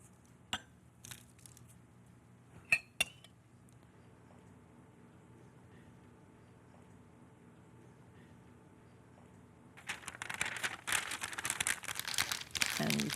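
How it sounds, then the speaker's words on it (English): Aluminium foil crimped around parchment paper for steam cooking: a few sharp crinkles early on, then a dense, continuous crumpling and rustling in the last few seconds, close and fairly loud. "And you can just crimp the foil"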